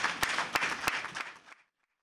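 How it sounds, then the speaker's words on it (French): Audience applause at a televised ceremony in Benin, a short burst of dense clapping with a few sharper claps standing out, ending abruptly after about a second and a half and leaving silence. "Merci d'applaudir."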